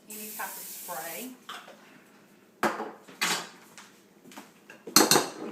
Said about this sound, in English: We can spray our pans with some Pam or any type of spray.